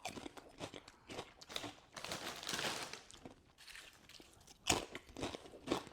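Hand-cooked salt and vinegar crisps being eaten up close, a quiet run of hard, irregular crunches and chewing with a few louder bites and bag crinkles, no talk.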